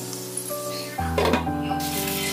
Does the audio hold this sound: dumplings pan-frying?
yes